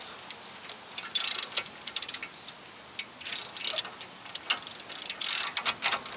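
Ratchet wrench worked on a 2015 Honda Civic brake caliper bracket, rapid clicking ratchet bursts at close range, repeated in uneven spurts with short pauses between strokes.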